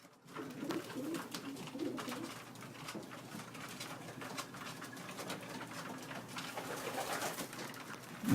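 Pigeons coo softly inside a loft, low gentle calls repeating through a quiet room with light rustling and patter, fairly close but faint overall.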